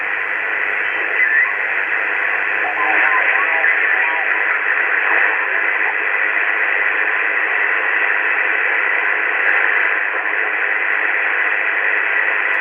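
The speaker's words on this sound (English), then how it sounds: "Very noisy on 40." Steady, loud hiss of band noise on the 40-meter amateur band, received on a Vertex Standard VX1700 HF transceiver, filling the whole stretch with unbroken static and no clear signal.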